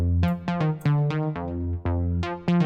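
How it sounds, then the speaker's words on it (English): Analog trumpet patch on a Monopoly synthesizer plays a bouncy, funky staccato riff in F, punchy brassy stabs in a steady disco rhythm, close and alone. "this analog trumpet sound, which is really cool. And it just sounds like this."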